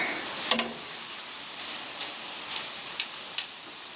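Crispy Vietnamese chow mein noodles fry in a hot pan over medium heat, giving a steady soft sizzle with a few light clicks and taps as the noodle cake is flipped.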